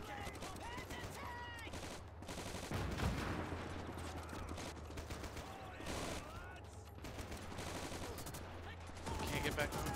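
Machine gun fire in the WWII strategy game Gates of Hell: Ostfront, defending Fort Pilastrino in Libya 1941; continuous rattling bursts and scattered shots over a busy battlefield, with voices talking throughout.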